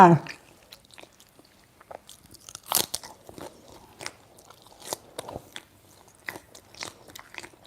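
Som tam papaya salad is eaten at close range, with wet crunching bites and chewing that come in scattered bursts separated by quiet gaps, and a voice briefly heard at the start.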